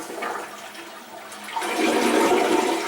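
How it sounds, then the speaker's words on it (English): Water rushing into an American Standard Vormax toilet tank through the fill valve after the shutoff valve is opened, a steady hiss and gurgle that swells louder partway through and continues close by. "We'll turn on the shutoff valve and fill the tank."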